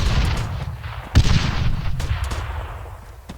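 Gunfire rattles through a PvP attack-and-defense drill in a video game, with several sharp shots, one standing out near and loud, over a continuous background rumble.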